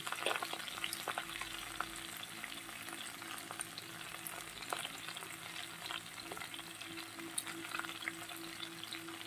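Slit green chillies, tomato and salt frying in a pan, a dense continuous sizzle with scattered crackles, close and steady throughout, no talking.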